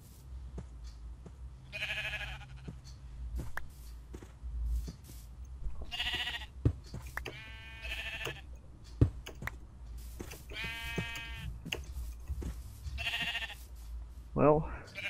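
Sheep in the Minecraft video game bleat several times in short bursts spread through the stretch, over quiet keyboard and mouse clicks and faint game background, with a voice talking at times.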